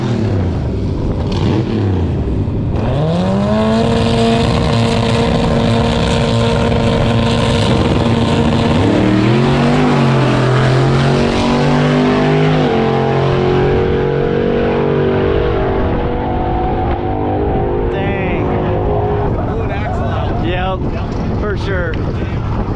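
Race cars at a Rocky Mountain Raceweek drag-style run, two engines screaming loud and close with rising harmonic revs, gear shifts, then fading away, with wind buffeting and voices talking over it.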